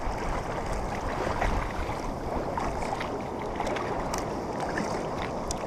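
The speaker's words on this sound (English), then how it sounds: "Rebound waves." Rebound waves slap and splash constantly against a sea kayak off the rocky Cornish coast near Cape Cornwall, a dense close wash of water with wind rushing over the microphone.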